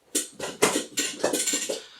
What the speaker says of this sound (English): you'll have to forgive the creaky noise of my chair